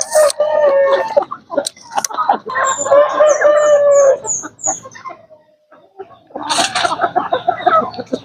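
Large Basilan chickens cluck and a rooster crows close by in a backyard while they are fed ripe mangoes, with bursts of busy clucking, a brief high crow, and a short quiet gap before the calls resume.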